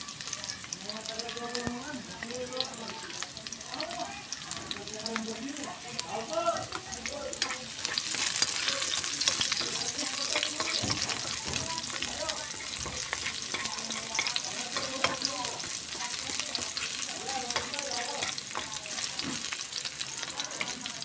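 Garlic and onion sauté in a hot pan with a continuous loud sizzle and repeated stirring scrapes, and the frying swells in intensity midway through.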